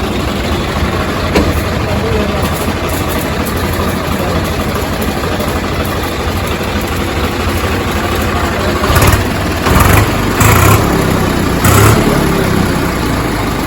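A Swaraj 855 tractor engine idles nearby with a steady low rumble, broken by several brief louder knocks and clatters near the end as someone works around the machine.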